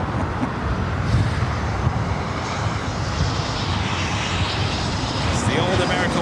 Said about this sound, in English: American A319 coming back from SFO, about to touch down at 24 right.